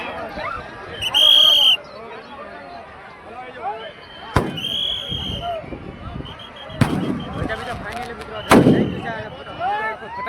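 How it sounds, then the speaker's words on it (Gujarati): Several sharp firework bangs burst out over a noisy outdoor crowd at a Ravan Dahan in Bhavnagar, with bright crackling and whistling bursts scattered through the scene and people talking throughout. "અને ફટાકડા પણ મિત્રો ફૂટી રહ્યા છે"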